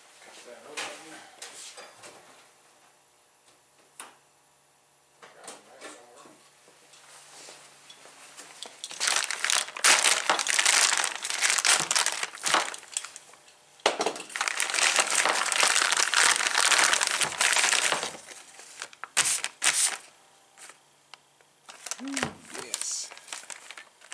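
Sealed packaging for a 1999 Yamaha YZ125 engine part is cut open and unwrapped, giving loud bursts of plastic crinkling and crunching with quieter handling sounds between them, alongside someone talking.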